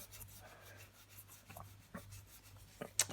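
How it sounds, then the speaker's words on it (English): A cloth soaked in nail polish remover rubbed over residue on a cracked Bugaboo Donkey stroller strut, faint soft scrubbing strokes in short separate bursts, close and quiet. "Soak it in the nail polish, and then just going to rub it over, and it will"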